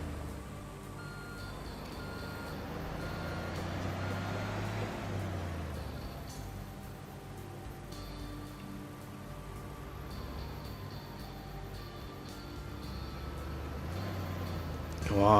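A low loader truck reverses in Construction Simulator 2 on PS4, its steady backup beeps repeating over a droning diesel engine that swells and eases as it manoeuvres, with a brief voice near the end.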